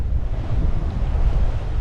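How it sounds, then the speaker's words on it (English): Waves on the North Sea splash up and over a heeling sailboat, a loud, rushing surge of water mixed with buffeting wind against the microphone, continuous with no one speaking. "we're getting some waves splash up and over"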